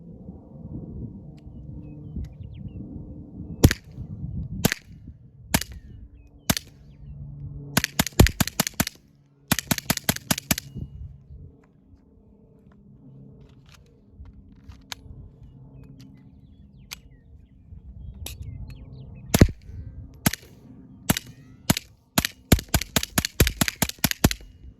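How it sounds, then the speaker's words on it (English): Sharp, loud gunshots from a Keltec P17 pistol fitted with an optics cut slide: a few scattered single reports, then quick strings of rapid fire separated by short pauses, with no talking. "testing out the new Keltec P17 optics cut slide. There's the first couple shots."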